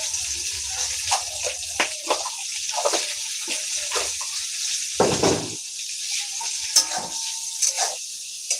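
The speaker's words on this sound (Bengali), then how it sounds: "লবণ গুঁড়োটা দিয়ে আমি একটু ফার্স্টে ভাজা করে নিচ্ছি" Baby hilsa fish fry in a pan with salt and mustard, giving a loud, steady sizzle with frequent stirring scrapes and clinks close by, with no talking.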